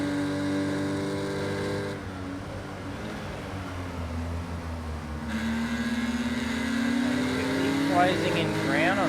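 Porsche Cayman race car engine at Zhuhai International Circuit, a sustained revving drone rising and falling in pitch, with a race commentator's voice talking over it throughout.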